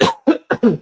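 A person gives a few quick, close coughs in a short burst of about four bursts, loud and dry, with no other talk around them.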